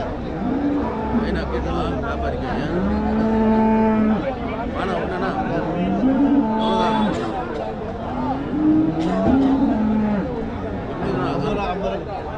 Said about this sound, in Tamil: நல்லா அருமையான மாடு ஒரு ஜெர்சி மாடு